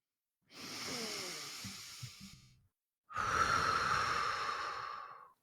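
Two slow, deep breaths, each a long airy inhale or exhale close to the microphone, separated by a short silence, with no speech.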